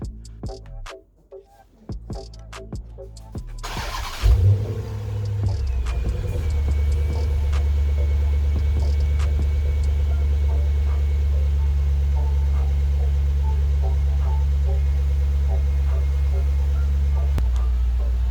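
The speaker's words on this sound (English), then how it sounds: "let me just turn the engine on" A 2007 Chrysler 300C engine with its air intake resonator removed cranks and catches after some quiet handling noises, then settles into a steady, loud low idle that continues to the end.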